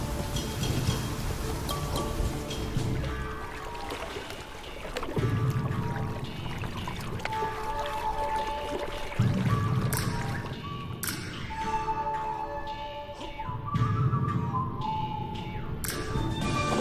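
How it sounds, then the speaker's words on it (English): The first real rain in a year falls across the Namib Desert, a steady, close patter and splash of drops on ground and pooling water, continuous and even with no voices. "The first real rains for a year."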